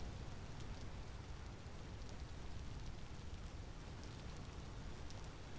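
Torrential rain pours in the survival game Vintage Story, an unbroken wash of hissing water and pattering drops that holds steady throughout, no voices present.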